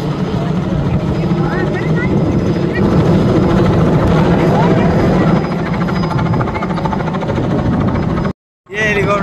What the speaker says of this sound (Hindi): हेलीकॉप्टर में से फूल बरसा रहे हैं।